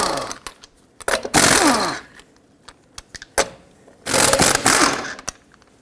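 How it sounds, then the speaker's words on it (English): An impact wrench with a 19mm socket removes lug nuts from a Dodge Grand Caravan wheel, firing two loud, close rattling bursts between clanks of nuts and the socket being handled. "With a 19mm socket, remove all 5 of your lug nuts and then remove the wheel."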